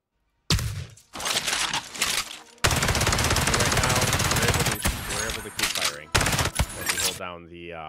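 Rifle fire in an Unreal Engine 5 third-person shooter game, heard as loud, dense bursts of rapid shots in several clusters with one long sustained volley, close and harsh, ending in a brief ringing tail.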